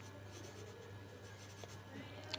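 Pen writing Pitman shorthand on paper, soft scratchy strokes close up over a low steady hum, no talk.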